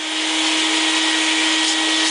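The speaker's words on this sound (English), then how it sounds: "There's the sander. Okay. I'm going to start sanding." A dustless drywall sander runs steadily while sanding drywall, a loud continuous motor whir with a sustained tonal hum and broadband scraping hiss, close and alone without talk.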